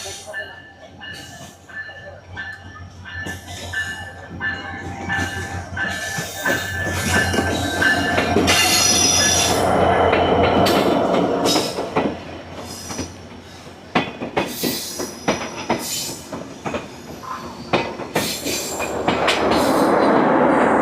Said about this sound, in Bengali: কুষ্টিয়া থেকে যশোরগামী কপোতাক্ষ এক্সপ্রেস ট্রেনটি কিন্তু চলে এসেছে।